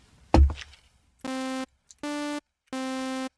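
A synthesizer sounds three short, identical buzzy tones with rich harmonics, evenly spaced with gaps of silence, after a brief knock or thump at the start.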